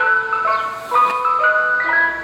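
An ice cream truck plays its tinkling music-box jingle loud and near, the melody running continuously outdoors at the start of summer.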